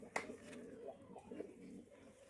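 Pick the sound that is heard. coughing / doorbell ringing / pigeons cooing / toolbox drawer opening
pigeons cooing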